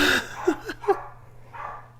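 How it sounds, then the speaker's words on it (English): Several dogs shut in a bedroom bark in a few short, sharp bursts, muffled and indoors, with a steady low hum underneath and no talking. "They might bark a little bit, but that's okay."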